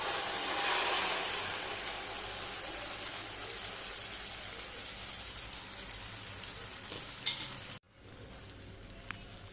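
An egg mixture hits hot oil in a pan with a loud, broad, continuous sizzle that holds steady for several seconds, then cuts out abruptly and resumes more quietly, with no talking.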